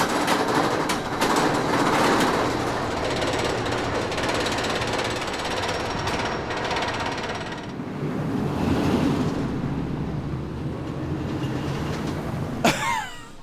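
Lightning Rod, a wooden roller coaster at Dollywood, roars steadily through its ride with dense rumbling and clattering from the train on the track, loud and continuous throughout, dipping briefly in the middle before a sharp rattle near the end.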